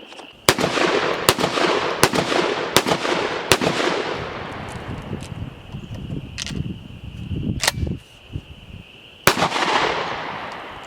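A Mossberg 940 Pro Tactical SPX semi-automatic shotgun fires target loads outdoors: about eight loud, sharp blasts, the first five in a quick, fairly even string, then a pause and three more spaced shots, each with a short ringing decay.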